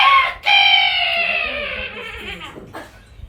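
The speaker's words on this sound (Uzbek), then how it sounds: "xo'rozlar qichqirar birga jo'r ovoz" Roosters crow together in a loud, drawn-out call lasting about three seconds, with a second crow starting briefly near the end; no talk over it.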